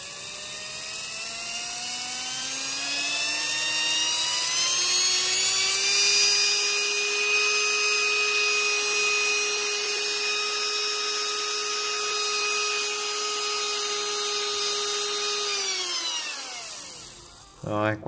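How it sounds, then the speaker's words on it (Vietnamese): A high-power DC motor spins on an LM317 and D718 speed controller, giving a steady, loud mechanical whine with layered harmonic tones. The pitch climbs slightly at first, holds level, then sweeps down as it winds down at the end. "Anh em để ý tốc độ của motor nhá. Đây là nó vẫn quay này"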